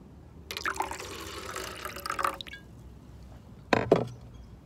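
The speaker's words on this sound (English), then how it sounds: "You mix a normal rosé with Perrier." Perrier sparkling water pours into a glass of rosé wine in two bursts, a longer gurgling splash followed by a short sharper pour with fizzing and bubbling, close and clear.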